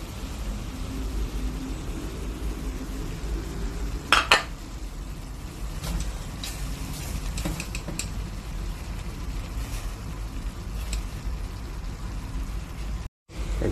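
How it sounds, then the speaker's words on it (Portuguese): Onion and bell pepper sautéing in a pan, a steady close sizzle with a few sharp clinks and scrapes of a utensil against the metal. "Vou refogar a cebola e o pimentão."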